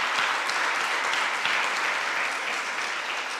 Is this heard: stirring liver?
no